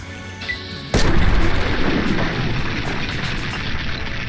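Gunfire in the video game Fallout 3: a sudden loud blast bursts in about a second in, then rolls into a sustained rumbling roar that slowly fades, after quieter game ambience.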